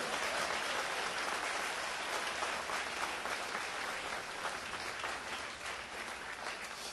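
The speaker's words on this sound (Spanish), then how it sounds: "Dale fuerte el aplauso al Señor" Sustained, loud applause from a church congregation praising the Lord during a Spanish-language sermon, a dense even wash of clapping lasting throughout with no pauses.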